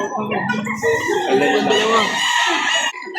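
Chickens cluck and a rooster crows at a poultry seller's in Lipa City, Batangas, the calls overlapping in a loud, busy, close-up stretch with faint talk in the background.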